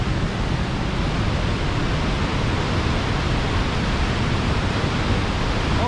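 A waterfall on a British Columbia cliffside rushes in a dense, unbroken roar of falling water, steady and fairly loud throughout.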